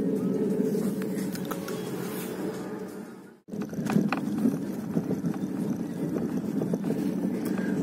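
A car rolls into the town of Pokrovsk past a checkpoint, its steady low road rumble and wind noise running continuously, broken by one brief dip before the engine drone resumes.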